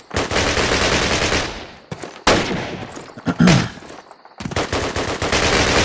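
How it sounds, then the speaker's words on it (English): Loud, rapid machine gun bursts rattle in a Call of Duty game, coming in long sustained strings broken by short pauses, with one heavier thump in the middle and continuous close fire to the end. "The sounds, the gunfire"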